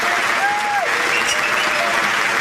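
Dense applause from a crowd, steady and loud throughout, with a few faint whistles or voices rising above the clapping.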